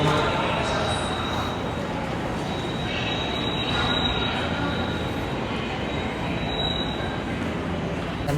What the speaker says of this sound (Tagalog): paalis na yung train na papunta sa pupuntahan natin.